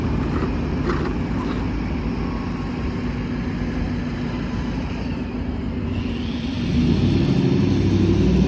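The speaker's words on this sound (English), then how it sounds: "Car's got a loud engine." A loud car engine idles and rolls along a downtown city street in Toronto, a steady low rumble over traffic noise that swells louder near the end, with a faint hiss of air brakes.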